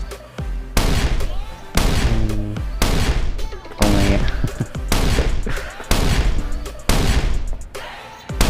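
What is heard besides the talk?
C4 explosives blasting a door in Last Island of Survival video game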